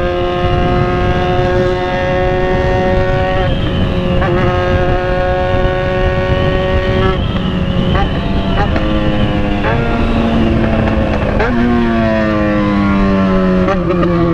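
A Yamaha XJ6 motorcycle engine roars steadily up close, its pitch climbing and dropping through gear shifts as the bike accelerates, with wind noise throughout.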